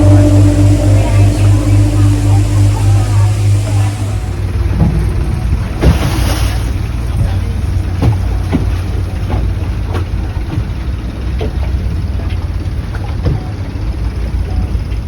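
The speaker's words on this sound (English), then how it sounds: "So here I am in a longtail boat, taking a little tour on the river here this morning." A longtail boat engine drones low and steady on a river in Bangkok, heard from aboard alongside water rush and wind, loud and continuous with shifting rumble.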